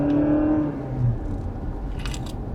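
Toyota Corolla hybrid 180 hp petrol-electric engine whirring under hard acceleration, a loud steady drone from inside the car that eases slightly after a moment, with faint road noise and brief clicks near the end.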